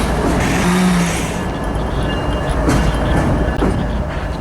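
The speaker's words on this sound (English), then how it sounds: "Once the CSX locomotives pass me," CSX freight locomotives roar loudly past at close range, a heavy continuous rumble of engines and rolling rail cars with no talking.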